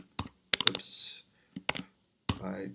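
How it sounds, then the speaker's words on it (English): Close, quiet keystrokes on a computer keyboard fall in short irregular bursts of clicks separated by brief silences. "Let's see if we can autocomplete because I'm bad at typing here."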